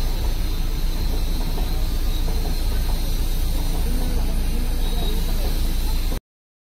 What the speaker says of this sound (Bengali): তারপরে এই ট্রেনটা ঢুকলো।